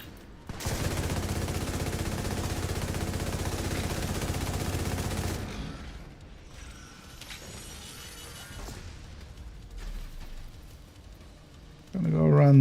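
Continuous loud automatic fire from a video game, a dense sustained volley lasting several seconds that then drops away into quieter mechanical clatter and effects, with a brief voice at the end.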